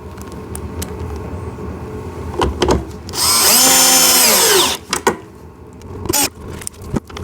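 Power drill driving screws into a kids' two-seater 4x4 ride-on car, one sustained whining run of about a second and a half that winds up and down, framed by close clicks and knocks of plastic parts being handled.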